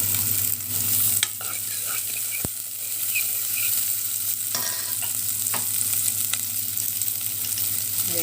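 Small onions sauté in hot oil with a loud, continuous sizzle as they are stirred. Scrapes and one sharp knock against the pan stand out over the frying. No one speaks.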